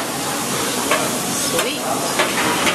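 At a Chinese buffet, hibachi food sizzles on a hot grill in a steady, close frying hiss, with occasional scraping and stirring strokes over the top.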